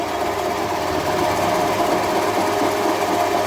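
A steady 4 kW, 1000 rpm electric motor on a pellet mill with a 150 mm die hums continuously with a constant mechanical whir and faint rattling, loud and close, with no talking.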